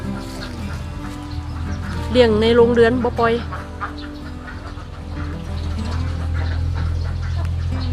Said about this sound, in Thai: เป็ดเพิ่นมีเป็นพันเลยพี่น้อง